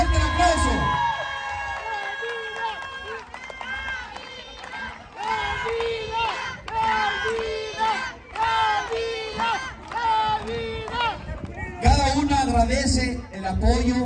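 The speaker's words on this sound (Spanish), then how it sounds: "Fuerte el aplauso." A crowd at a Zacatecas village festival cheers, whoops and shouts for the queen of the September patriotic fiestas, loud and close, with excited voices and someone talking over the noise throughout.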